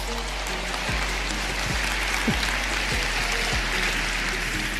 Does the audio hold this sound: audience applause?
yes